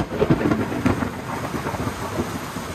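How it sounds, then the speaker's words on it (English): Thunderstorm with rain on the first day of the rainy season in Lusaka, Zambia: steady, dense rainfall fills the scene while low rumbling thunder rolls underneath, with no voices present. "This is the first day of the rain."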